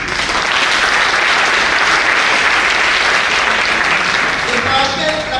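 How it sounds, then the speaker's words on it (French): Audience applauding for the Mahat Academy at a talk on development in Africa, dense sustained clapping from a full hall, loud and even throughout. "Est-ce qu'on peut applaudir pour la Mahat Academy?"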